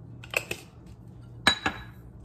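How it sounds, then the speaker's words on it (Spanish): Seasonings for shrimp Alfredo pasta are stirred in a dish, two pairs of sharp utensil clinks against the bowl with a quiet pause between them and a faint hum behind. "Vamos a mezclar bien esto"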